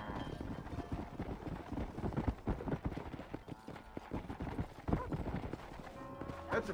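A horse's hooves clip-clop steadily near a ranch stable in the Red Dead Redemption video game, a continuous trotting patter over faint background game sound.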